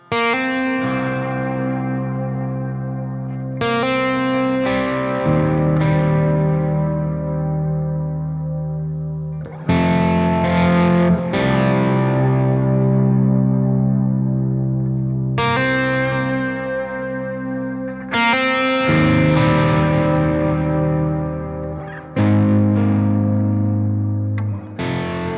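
Sustained guitar chords through a Strymon BigSky MX reverb pedal ring out with lush reverb and a shimmering, chorused wash, each strum decaying slowly before the next, no voices.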